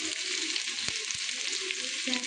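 Ginger garlic paste frying in hot oil in a pot for pulao, a loud, continuous sizzle with a couple of sharp clicks, and no talking.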